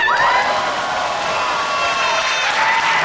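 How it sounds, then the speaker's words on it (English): A college audience at a guest lecture cheers and whoops loudly, a sustained burst of crowd noise with shouts and some applause throughout. "I just love hearing the crowd"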